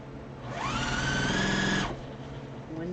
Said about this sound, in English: And then you're going to sew one piece to this block.